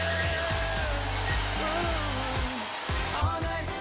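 Hair dryer blowing on freshly treated hair, a steady loud whooshing whir running continuously up close, with slight shifts in tone as the airflow moves.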